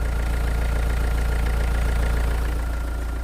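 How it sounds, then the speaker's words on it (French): A Renault Clio 2 engine idles in a steady, low rhythmic hum close by, even and continuous with a faint ticking texture and no voices. "il n'y a que le moteur qui tourne"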